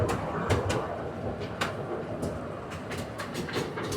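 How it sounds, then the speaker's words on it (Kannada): A small fairground kiddie train rumbles steadily along with repeated clicking track sounds and occasional sharp clacks, heard from on board at a Maha Shivaratri fair in Vijayapura. "ನಾವು ಇವತ್ತು ಟ್ರೈನ್ ಒಳಗೆ ಕುಂತೀವಿ, ನೋಡ್ಬೋದು ನೀವು"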